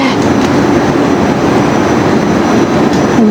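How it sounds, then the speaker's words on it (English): Steady, loud industrial machinery noise from a working pottery factory next door, heard from inside an old bottle kiln at the Falcon Pottery works in Stoke-on-Trent; a continuous broadband rumble with no pauses and no talk. "you can hear the noise of the current factory next door"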